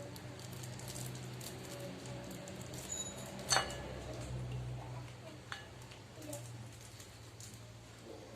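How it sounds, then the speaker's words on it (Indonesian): Heavy rain falls outdoors, a soft, constant patter with scattered ticking drips and a few sharper taps. Faint background noise runs underneath. "Hujannya lumayan deras."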